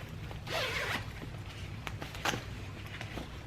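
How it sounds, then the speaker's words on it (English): A zipper runs along the mesh sun canopy of a Baby Jogger City Select stroller, one quick close zip followed by faint clicks and rustling in a quiet room. "where you can zip and unzip this mesh for the sun protection"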